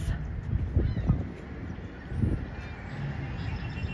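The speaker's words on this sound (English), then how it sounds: "You can hear all the birds and the red-winged blackbirds." Birds, including red-winged blackbirds, call outdoors near Niagara Falls over a constant rushing background noise, with a few honking-like bursts rising and fading.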